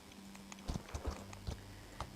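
Horse hooves clip-clop in the video game Equinox Homecoming, a quiet uneven run of soft thuds spaced a few per second, close by with no talk over them.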